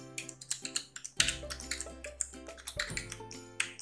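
Keys tapped on a computer keyboard while entering a username and password during a WordPress setup on an AWS EC2 server: quick, irregular clicks in short bursts, close and fairly quiet, with a low hum underneath.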